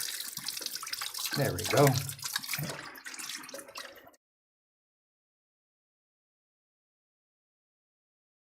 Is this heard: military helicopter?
no